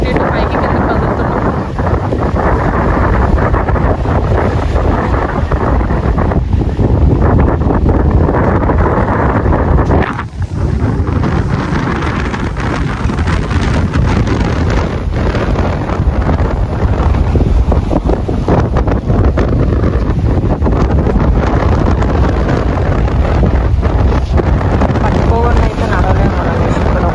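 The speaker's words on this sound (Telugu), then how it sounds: "వేవ్స్ ఎంత స్పీడ్గా ఉన్నాయో. వాటర్ యాక్చువల్ షిప్ లోపలికి వస్తున్నాయి." Strong wind buffets the microphone aboard a sailing ship at the Hanse Sail in Rostock, Germany, with rough waves surging and splashing around the hull in a loud, unbroken roar that runs throughout.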